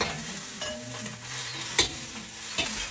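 Rice stir-fried in a wok with a crushed salted duck egg, sizzling steadily while a utensil stirs and scrapes against the pan, with one sharper clink partway through, close by and without speech.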